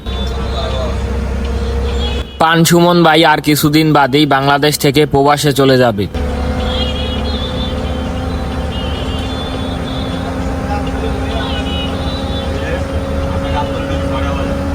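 An Evergreen sleeper bus cruises along the Dhaka to Cox's Bazar route, its steady engine hum and road rumble running throughout while someone talks loudly over it for several seconds.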